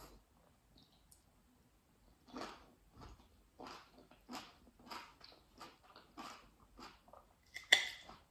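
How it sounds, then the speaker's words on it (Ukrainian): Crisp crunching bites repeat in a steady rhythm up close, with quiet pauses between chews and one louder crunch near the end. "Чуєте хрумтить?"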